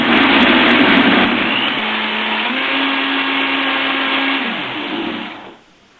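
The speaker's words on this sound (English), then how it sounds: "we're going to start out at a low speed and then turn it up." A high-power blender whirs through vegan carob pudding, a loud steady roar whose pitch rises as the speed climbs, then winds down and stops near the end.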